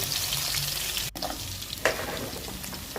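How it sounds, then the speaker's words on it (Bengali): Chopped onions hit hot oil already seasoned with cinnamon, cardamom and cumin, sizzling steadily and close up, with a sharp utensil click partway through the frying. "এখন দিয়ে দিলাম কুচানো পেঁয়াজ, হালকা একটু ভেজে নিব আমি।"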